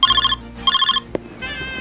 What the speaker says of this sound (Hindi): टोजो का फोन।